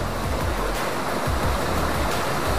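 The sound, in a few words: waterfall about 30 metres high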